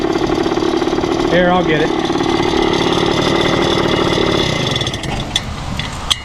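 A 1974 Indian ME 100 motorcycle engine idles loudly and steadily up close, with a person talking over it, before it is switched off and cuts out, leaving quiet with a few small clicks.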